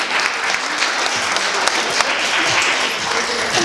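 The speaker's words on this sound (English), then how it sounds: "Please give her a round of applause." An audience at a business and book launch soirée at The Deacon in Philadelphia claps for a newly introduced chief creative officer, loud steady applause filling the whole stretch with no talking.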